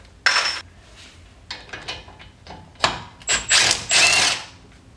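A power drill fitted with a T55 reverse Torx bit works a bolt on a Porsche 987 Cayman front strut: several short, sharp whirring bursts with pauses between, close by, plus metallic clinks.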